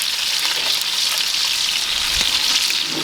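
Steaks frying with rosemary and garlic in a hot pan, a dense continuous sizzle and crackle of fat, close and fairly loud throughout, with no talking.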